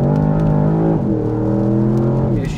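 A new Porsche engine with a particulate filter, loud and close, revving as it climbs through a gear, dropping briefly in pitch at a shift and then pulling hard again while driving on a country road.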